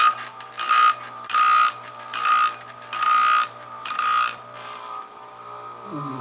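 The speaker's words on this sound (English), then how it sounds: "My first time running this sharpener." An electric chainsaw chain sharpener in a home garage grinds in five short, loud bursts, each about half a second, over a low motor hum, and then the motor winds down at the end.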